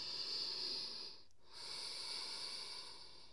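A yoga instructor in a pose breathes in and out with airy, hissing breaths, one long exhale, a short pause, then another slow breath, quiet and close.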